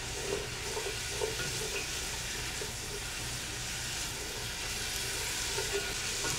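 Onions sautéing in a pan over a gas flame give a steady, close sizzle with occasional soft stirring scrapes, continuous for several seconds with no talk.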